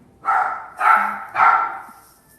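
A frightened dog barks three times in a steady rhythm during a thunderstorm, each bark loud and close, with no voices.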